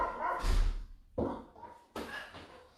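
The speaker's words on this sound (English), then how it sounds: "We have dogs going off the head on one side" Dogs bark in three separate loud bursts, fairly close, with short gaps of quieter background noise between them.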